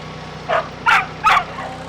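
A dog barks outdoors, three short, sharp barks spaced about half a second apart, fairly near, over a steady background hum.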